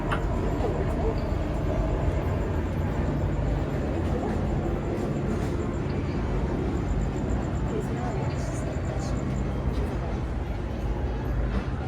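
Steady low rumble and clatter of the Disneyland Railroad train rolling along the tracks, continuous and fairly loud, as heard from onboard.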